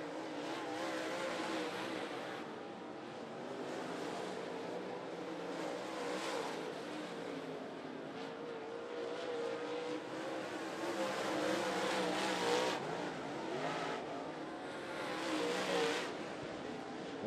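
Race cars in a heat race at Ponderosa Speedway, Kentucky, roar steadily around the oval, engines droning and swelling as the pack passes, a continuous loud mechanical din with no talk.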